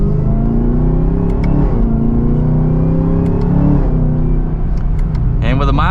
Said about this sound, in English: we got some pops in that exhaust, but we are up to speed just like that